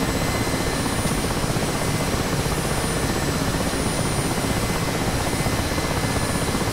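The engine and rotor of a Mi-8 helicopter in a flight simulator game drone steadily during a cold start, a dense, constant roar with no pauses.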